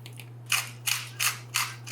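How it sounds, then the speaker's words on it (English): A pepper mill cracks fresh black pepper over a green curry mixture, making four evenly spaced gritty grinding bursts close up, with a low steady hum underneath. "Hit it with some freshly cracked black pepper"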